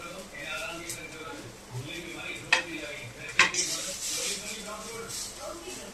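Cabbage, cauliflower and carrot drop into a hot sautéing pan, giving a steady sizzle with scraping stir strokes and a few sharp utensil clicks against the pan, while someone talks over it.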